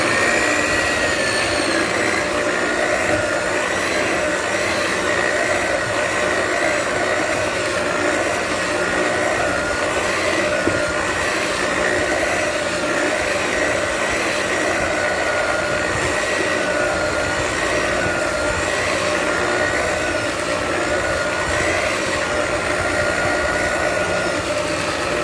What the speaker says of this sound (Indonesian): Lalu masukkan tepung terigu, ini di mixer lagi sampai tercampur rata.